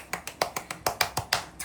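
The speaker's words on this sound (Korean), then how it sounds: "박수 한번 칠게요." Eleven sharp hand claps in a steady, fairly quick rhythm, close and moderately loud, with no talking over them.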